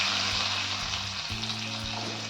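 Mustard seeds, cumin, asafoetida and curry leaves sizzle in hot oil for a traditional Marathi offering meal, a steady close hiss with a low hum beneath and no voices.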